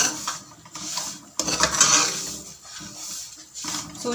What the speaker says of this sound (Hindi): जब तक चीनी इसमें मिक्स होगी तब तक हम इसमें चम्मच चलाएंगे ताकि ये चीनी नीचे ना चिपक जाए